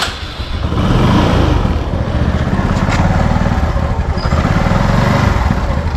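A small engine runs steadily right after starting, close and loud, with a rapid throbbing idle that holds for several seconds with no talk over it.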